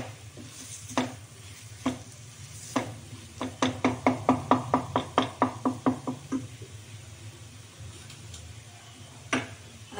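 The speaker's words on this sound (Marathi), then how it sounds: "आपला मसाला अगदी छान परतला गेला आहे।" Homemade spice masala with garam masala and red chilli powder sautéing in a pan, a soft sizzle under a run of rhythmic spoon-stirring taps against the pan, quickening in the middle, no talking.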